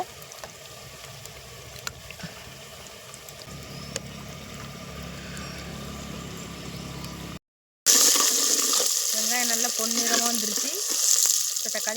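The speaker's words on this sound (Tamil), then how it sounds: "புளி ஊற வச்ச தண்ணி இன்னும் கொஞ்சம் இருக்குது அதையும் சேர்த்துடலாம்" Tamarind-soaked water poured into a simmering carp fish curry, a village-style kuzhambu: after a quiet stretch and a cut, a loud close sizzle and bubbling gush rise and hold steadily to the end.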